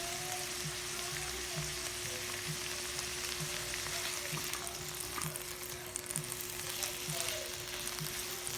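Sliced bitter gourd (ampalaya) fries in a pan with oyster sauce, giving a steady, dense sizzle with faint periodic stirring clicks, alone with no voices.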